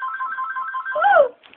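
A phone ringtone plays alone, a clean electronic tone pulsing rapidly and then ending on a short rising-and-falling sweep before it cuts off.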